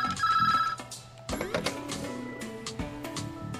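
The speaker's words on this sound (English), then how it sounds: "Oh, phone call." A phone rings in the video game The Touryst, a bright electronic trill sounding clearly near the start. An abrupt burst of game sounds and music follows and carries on to the end.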